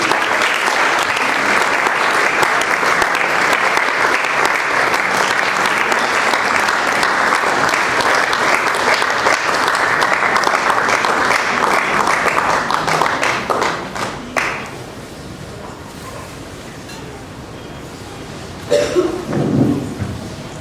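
An audience at a church youth gathering on engagement applauds to welcome a couple: a dense, steady wash of clapping for about fourteen seconds that then dies away into a quieter room, with a brief voice near the end.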